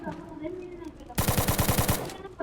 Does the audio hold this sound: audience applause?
no